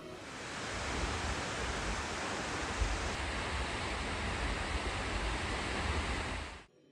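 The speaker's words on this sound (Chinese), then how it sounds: "看着大自然的水量从头顶狂砸下来，视觉上非常震撼。" A waterfall on Iceland's south coast pours down from overhead, a loud, unbroken broadband roar of crashing water and spray that fills the scene for several seconds before cutting off.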